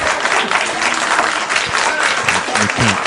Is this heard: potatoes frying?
no